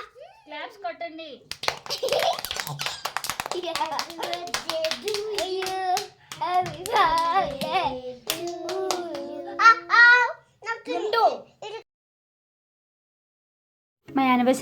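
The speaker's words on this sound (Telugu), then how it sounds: "క్లాప్స్ కొట్టండి." People clap their hands at a home anniversary celebration. Repeated sharp claps in irregular bursts run for several seconds, mixed with lively talk and children's voices, and the sound ends in a short silence.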